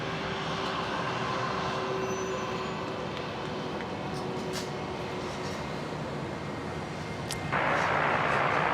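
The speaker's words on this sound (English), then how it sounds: "And next aircraft is lined up, ready to go behind. Virgin Australia 73." A Virgin Australia Boeing 737 jet on the runway at Brisbane airport makes a continuous roar that holds steady, then rises in loudness near the end as the engines spool up, heard at a distance with no talking.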